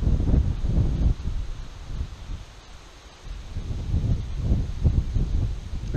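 Gusty wind blows beside a small river, buffeting the microphone with a low, uneven rumble that swells and eases over several seconds.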